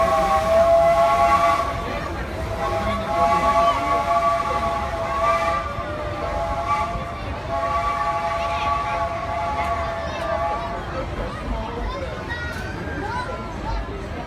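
Disneyland steam train at the park, its whistle sounding in long steady tones that rise and hold over a busy crowd, with people talking nearby throughout.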